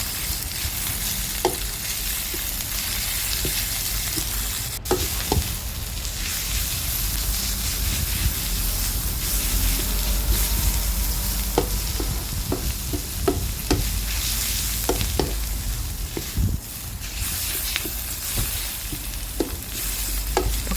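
Pickled mustard greens stir-fried in a pan sizzle with a continuous hiss, punctuated by scattered clicks and scrapes of the spatula stirring, close and moderately loud.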